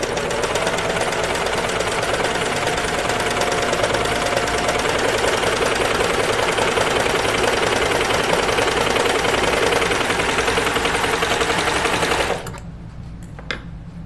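A sewing machine runs continuously as it stitches a single layer of a Grainline Studio Linden sweatshirt, a loud, fast, steady rattling hum lasting about twelve seconds before cutting off into quiet room sound.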